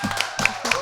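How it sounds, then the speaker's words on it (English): A few quick, close hand claps in a short burst, brief and fairly loud with no voices over them. "Let's have a round of applause for Gabby."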